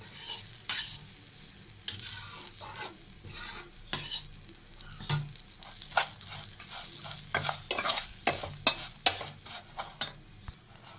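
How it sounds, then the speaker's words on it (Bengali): Vermicelli sizzles while frying in butter, with repeated scraping stirs of a spoon against the pan in an uneven rhythm. "বাটারটা আর সেমাইটা একসাথে মিশিয়ে ভালোভাবে ভেজে নেব"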